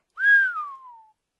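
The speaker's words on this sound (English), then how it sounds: "Sorry for whistling down the mic." A single close whistle slides gently downward in pitch, loud and clear right against the microphone, then fades out.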